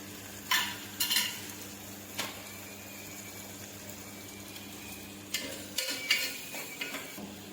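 Salted ingredients sizzle softly in a pan for a prawn and tomato curry, with several sharp scrapes and clatters of a spoon stirring between quieter stretches of frying, no talk.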